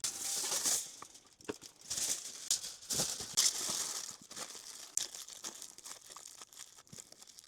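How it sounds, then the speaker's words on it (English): Tin foil crinkles and tears up close as it is wrapped around a campfire dessert, with steady crumpling and a few sharper rustles, without any voices. "and then you're going to wrap it in tin foil"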